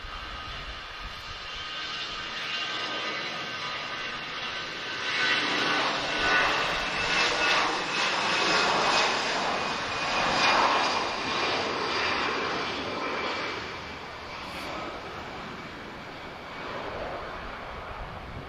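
A Eurowings jet airliner at Lisbon Airport rumbles steadily from a distance, its broad engine roar swelling as it passes and then slowly fading, with wind noise on the microphone throughout.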